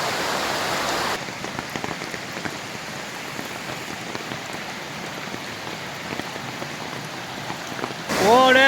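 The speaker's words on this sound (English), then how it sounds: "That's what 6 inches of rain looks like" Heavy rain pours onto a farm pond in Southern Illinois during a storm that overflows the pond dam, a dense, steady hiss of drops that stays loud from start to finish, with a short louder burst near the end.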